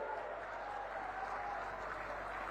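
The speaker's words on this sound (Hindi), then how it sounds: "जोर से ताली बजाइए सरोज बहन के लिए।" Crowd applauding at a BJP Lok Sabha campaign public meeting in Korba, Chhattisgarh, a steady wash of clapping that holds at an even level throughout with no break.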